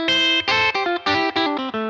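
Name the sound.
clean sparkly electric guitar tone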